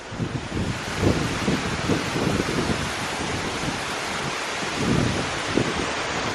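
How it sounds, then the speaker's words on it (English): Strong wind buffets the microphone at a quiet marina in Ayia Napa, Cyprus: a dense, continuous roar with low gusty rumbles that swell and fade, loudest around the first and fifth seconds, with no voices. "this is down by the marina, even windier than previously"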